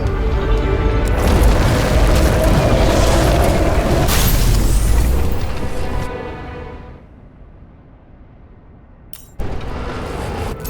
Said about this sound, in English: Someone flooded the transformer and it caught fire. The cable acted like a fuse. That's what caused the explosion.